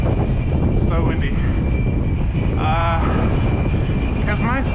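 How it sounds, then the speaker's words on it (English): Strong gusting wind buffets the microphone during a bike ride on the LA River Trail, making a loud, continuous roar that fills the clip. Faint speech is heard briefly underneath. "Holy cow, so windy."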